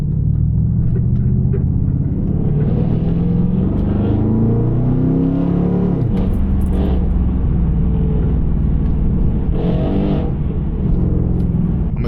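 A car engine revs loudly and steadily, a deep, throaty roar with rising and falling pitch as the throttle is worked, close by and continuous throughout, with no talk over it.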